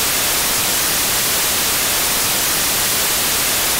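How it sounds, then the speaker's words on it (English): Constant loud white noise static, an even hiss spread across the whole range without any break or change for a few seconds. "How to assert dominance using only white noise?"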